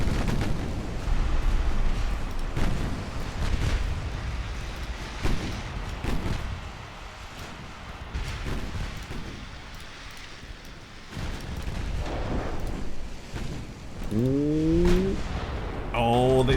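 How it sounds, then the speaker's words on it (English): Cruisers fire 6-inch shells in a naval battle game, sounding as repeated booming gunfire and distant thudding explosions spread across the stretch, with a voice talking near the end. "my cruisers can just throw 6-inch shells at them"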